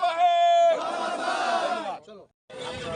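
A crowd at a political rally chanting a slogan in unison, loud, sustained shouted voices that drop out briefly before the chant resumes.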